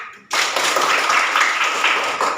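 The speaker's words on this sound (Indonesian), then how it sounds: "Kasih aplaus dulu" A classroom of students breaks into applause, a sudden dense burst of clapping that starts abruptly and continues steadily and loudly to the end.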